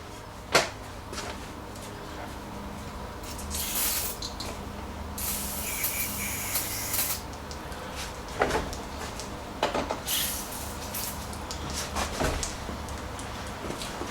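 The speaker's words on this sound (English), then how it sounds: "I will spray it down though" Several short hissing spray bursts from an aerosol can of lubricant sprayed onto lawn mower parts, close by, separated by pauses, with faint clicks and handling noise between them.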